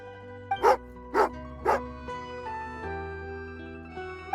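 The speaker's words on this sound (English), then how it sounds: "Oh, angry doggy." In Genshin Impact, an angry dog gives three sharp barks close by, spaced about half a second apart, over a soft background of game music.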